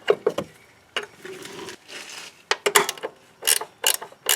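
A wrench works the nut on an Audi upper control arm bolt up close, giving bursts of rapid ratcheting clicks separated by short pauses.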